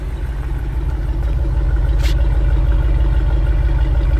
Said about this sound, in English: So here's the current exhaust note on the Power Wagon here.